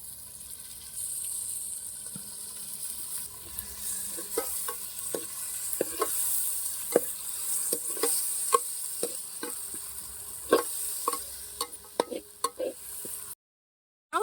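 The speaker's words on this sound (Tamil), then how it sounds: "இப்போ நம்ம தக்காளி புளிஞ்சுக்கலாம் தக்காளி ஊற்றிக்கலாம்" Tomatoes fry in a pan for mutton thokku, giving a soft steady sizzle under scattered scraping clicks of stirring, fairly close and moderate in level.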